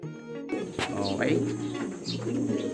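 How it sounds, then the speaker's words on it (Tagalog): Pigeons coo softly in low, repeated calls at a training loft, with faint chirps and a brief knock mixed in. "So may dalawa na nga tayong ibon mga kalapatids"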